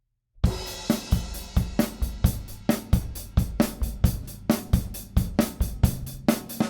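Drum fill, a steady sequence of sharp, close, loud drum hits with cymbal crashes, played alone without talk.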